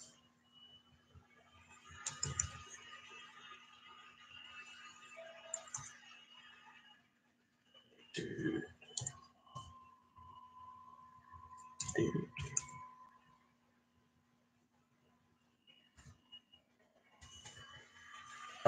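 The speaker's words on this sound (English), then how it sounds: "I'm going to type a code on here real quick" Keys clicked to type a code on a keyboard during a live figure-unboxing stream, sparse quiet taps in small clusters separated by pauses, close and faint with a low steady hum underneath.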